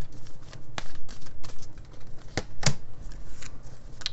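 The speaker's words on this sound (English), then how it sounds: "I'm using these Dragon Oracle cards because on my thumbnail there is Bruce Lee, and he is the dragon" A deck of Dragon Oracle cards is shuffled close by, giving soft papery riffles and sharp snapping taps in an irregular rhythm with no voices.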